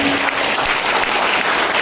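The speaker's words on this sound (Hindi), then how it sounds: "ताली जोरदार बजाइए।" A crowd applauds loudly and densely at a Hindi business speech, a continuous close wash of clapping with no gaps.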